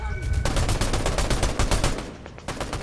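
Rapid automatic gunfire from a Fortnite match sounds in fast, evenly spaced bursts, loud and close, with a brief pause near the end.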